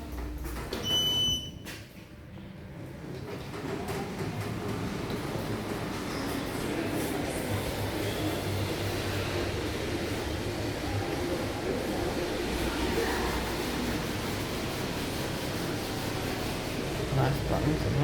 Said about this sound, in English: At least the motor sounds somewhat interesting going down.